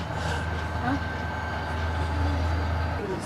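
A low, steady rumble of a freight train running along the tracks, with a deep droning hum and faint squeals, continuous and fairly close.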